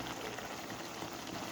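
Vegetables cooking in a pan after green chilies go in, a steady, even bubbling and crackling that holds at a constant moderate level without pause.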